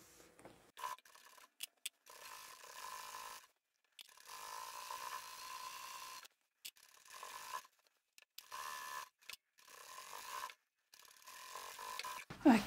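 A sewing machine backstitches fabric while sewing a multi-bottle drink carrier bag, running in several steady bursts of rapid mechanical whirring separated by short pauses.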